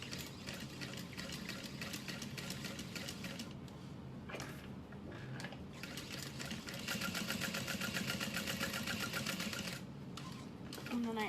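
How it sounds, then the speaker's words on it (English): A sewing machine runs steadily, stitching slowly around the outside edge of a diamond clutch wallet, with brief pauses where the needle stops and pivots before the motor hums on again. "we're just gonna sew around the outside edge at a little over 1/4 of an inch"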